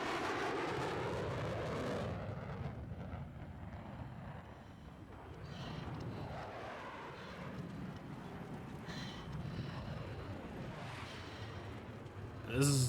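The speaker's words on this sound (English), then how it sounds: "we're going to follow the blue team's jet" A jet aircraft in a competitive video game match roars steadily through the whole stretch, a broad rushing engine noise that swells and fades as it moves, with faint shifting tones over it.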